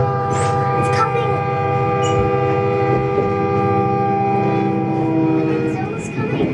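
A train on the rail line approaching, with a long sustained horn or whistle tone over rumbling wheels and rolling noise, loud and close throughout, with voices talking over it.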